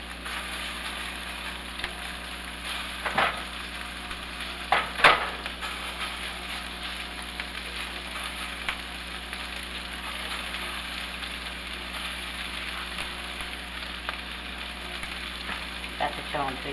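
Swedish meatballs sizzle steadily in an oiled pan, giving a continuous crackling hiss with a few sharper pops and faint utensil clicks. A low hum runs underneath throughout.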